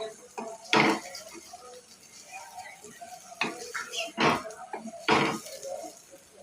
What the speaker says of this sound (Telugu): ఇలా స్లోగా కలుపుకుంటూ ఒక రెండు నిమిషాలు వేసుకోవాలి